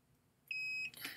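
A continuity tester gives a single clean electronic beep as its probes touch an audio connector terminal, a steady high tone of about a third of a second, followed by a brief clicky rustle, faint and close with no talk.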